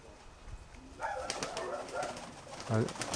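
Pigeons coo softly nearby, a low throaty warble repeating, with one louder coo near the end and faint background noise.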